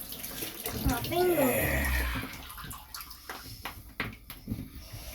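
Running tap water rinses a razor head in a sink during a shave, a steady rushing splash that fades into scattered drips and clinks, with a voice talking over the start.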